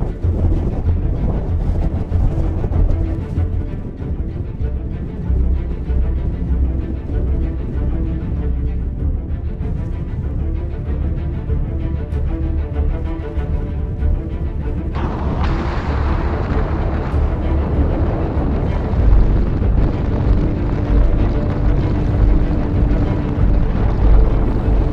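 Strong gusting wind buffets a sailboat beating upwind into 45-knot conditions with a reefed genoa, a steady loud roar with deep rumbling and rushing that swells and surges as the gusts build, with no voices.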